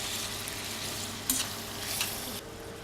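Food sizzles in a pan over the heat while being stirred, a steady close frying hiss with a few brief scraping stir sounds, no talk.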